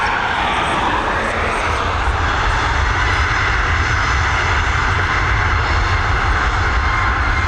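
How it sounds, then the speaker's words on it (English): Boeing 737 MAX jet engines at Dublin Airport produce a loud, continuous roar that holds steady throughout, close by and with no other sound breaking through. "we've got this Boeing 737 MAX. She's heading over to Luton."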